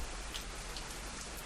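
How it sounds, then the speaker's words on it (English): Steady rain falls in the zombie survival game Zafehouse Diaries with its Walking Dead mod, a continuous even hiss of drops hitting surfaces, moderately quiet and alone throughout with no voices. "This rain really came at an inopportune time"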